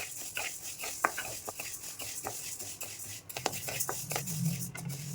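Moong dal lentils are stirred as they dry-fry in a pan while making sambar powder. Scattered scraping and grainy rattles come up close over a faint sizzle, irregular and fairly quiet, with no talking.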